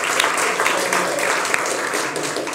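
Steady applause from the studio audience of a French political talk show, dense and sustained throughout with scattered louder claps, fairly close and filling the whole moment.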